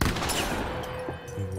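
A gunshot in The Quarry's hunting game, a loud sharp crack at the very start followed by a long rolling echo that fades across the clip.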